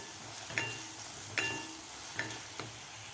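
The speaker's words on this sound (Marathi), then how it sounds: "मसालेसुद्धा आपल्याला व्यवस्थित एक मिनिटभर खालच्या कांद्यामध्ये व्यवस्थित परतून घ्यायचे आहेत कांदा आणि टोमॅटोमध्ये" Spices sautéing with onion and tomato in a pan for a ridge gourd curry, a faint low sizzle under a few sharp, separate spoon taps and scrapes against the pan.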